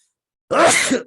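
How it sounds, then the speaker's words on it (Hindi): A single sudden sneeze bursts out after half a second of silence, loud and close, then trails off briefly. "कल की वीडियो में भी छींक आई थी"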